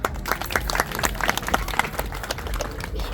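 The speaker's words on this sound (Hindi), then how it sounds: "तालियां बजा दो" A small group claps in uneven, distinct bursts for a woman after her personal account, the individual claps close and sharp, with some louder spikes throughout.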